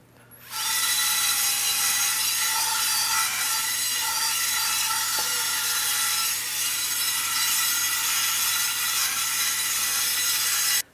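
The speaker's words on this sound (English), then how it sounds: "here is just the first initial scrubbing. You can see all the rust is gone." Coarse salt scrubs rust off a cast iron pan in a steady, loud, gritty rasping that runs continuously for about ten seconds, alone with no talking.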